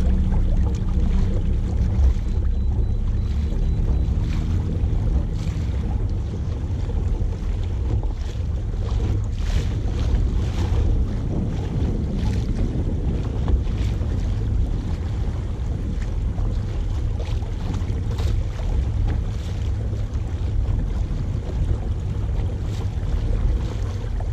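An Old Town Sportsman AutoPilot 120 kayak motor runs at its maximum setting of 10 out on the water, giving a steady, unbroken drone mixed with rushing wind noise and lapping water, with no talking.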